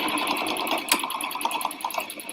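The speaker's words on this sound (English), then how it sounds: "I'm going to back stitch it more than normal" A sewing machine back stitches the top of a denim bag pocket, running in a fast, even close-up rattle of needle strokes with a sharp click near the middle.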